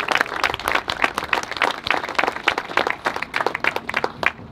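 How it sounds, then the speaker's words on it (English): A small crowd at a flag dedication ceremony gives a round of applause, with distinct individual claps in an uneven rhythm, moderately close and fairly sparse. "So if you guys give everybody a round of applause and thank them for joining us."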